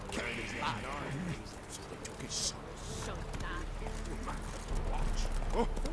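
Horse hooves clip-clop steadily in The Witcher 3 video game, blended into busy in-game ambience with voices murmuring over the rhythm.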